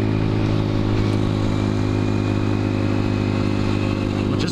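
A Honda Grom motorcycle engine runs steadily while being ridden, a loud, continuous buzzing drone with strong low harmonics and no break, no speech over it.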